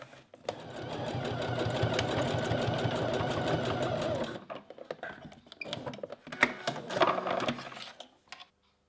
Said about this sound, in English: just sew a row of zigzag stitches just along this bit here and go back and forth a couple of times